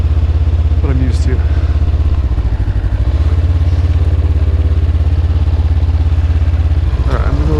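A Honda CB500F motorcycle engine runs at a steady idle, loud and close, with a low continuous rumble throughout and a couple of brief clicks or clatters near the start and end.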